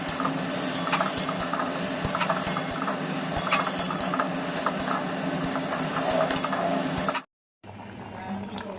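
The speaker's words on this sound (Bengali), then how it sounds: "এবার এই নিম বেগুনটা ভেজে নেব" Neem leaves and brinjal fry in a pan, a dense steady sizzle with scattered clicks of a spatula that cuts off abruptly near the end, leaving a quieter hum.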